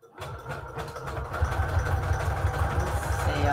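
A sewing machine stitches lace trim onto scrap fabric, giving a steady, close mechanical whir with a fast repetitive needle rhythm that builds slightly and runs continuously with no talking.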